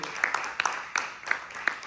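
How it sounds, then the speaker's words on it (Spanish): A church congregation gives a brief round of applause with scattered claps, and a voice carries over it. "Denle la ofrenda de palmas al que vive"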